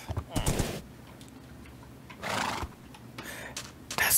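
A horse in the Minecraft video game whinnies in short bursts, a sharp cry near the start and another midway, over a quiet game background with faint clicks.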